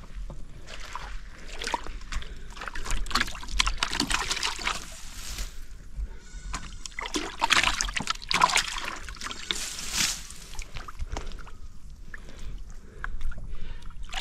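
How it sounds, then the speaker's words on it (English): A village stream splashes and babbles steadily nearby, a continuous rushing with occasional louder sloshes. "this is the village stream"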